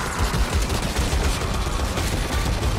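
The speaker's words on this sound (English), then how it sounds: "It's a rattling gun." A Skaven ratling gun from Vermintide fires a sustained, dense stream of rapid shots, loud and continuous throughout with no pause and no voices.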